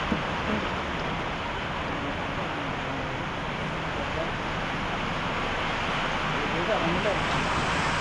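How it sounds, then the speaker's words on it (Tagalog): Steady rain pours down in a dense, even hiss with no letup, sounding close and fairly loud throughout. "Umuulan na naman."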